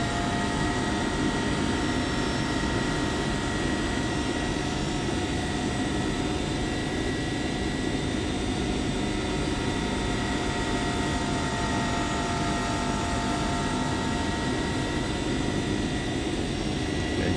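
Steady, droning aircraft engine on landing approach in the X-Plane flight simulator, a constant even hum with tonal whine lines that holds unchanged throughout, no voices.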